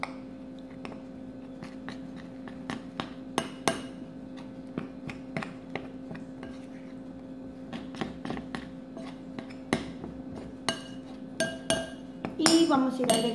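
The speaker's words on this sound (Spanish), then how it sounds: "Vamos a mezclar" An egg being mixed into oat, cheese and spinach scone dough, heard as a series of irregular clinks and taps of a utensil against a bowl over a steady low hum, busier toward the end.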